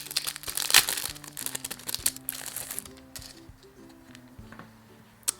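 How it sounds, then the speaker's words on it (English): Close crinkling and rustling as makeup brush packaging is opened, with fast crackles and small ticks early on that fade into softer handling noises, ending in one sharp click. "I will quickly open the brush first"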